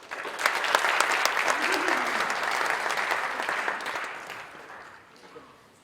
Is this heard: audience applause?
yes